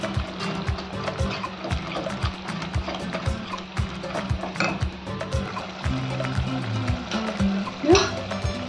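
Kashmiri chicken masala with milk stirred and fried in oil in a pan, soft continuous sizzle and scraping of the spoon with repeated knocks, under a steady low background hum.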